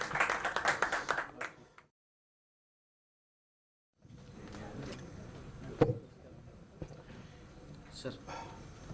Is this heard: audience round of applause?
yes